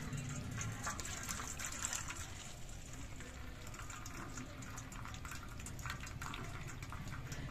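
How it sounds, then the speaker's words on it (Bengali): Water from boiled cauliflower stalks being tipped out of a pot, a steady close gushing pour that runs unbroken for several seconds with no talk. "এবার এই জলটা আমি কাত করে ফেলে দিচ্ছি।"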